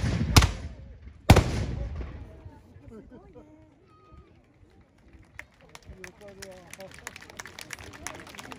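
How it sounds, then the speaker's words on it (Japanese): A Sanada gun corps volley of matchlock guns at a Matsushiro festival delivers two loud, sharp booms in quick succession, then the crowd murmurs and chatters with scattered clicks and movement. "最後に狙いを定めて発射いたします。"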